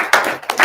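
A few sharp, close hand claps in quick succession at a sales team meeting, brief and uneven rather than a full crowd ovation.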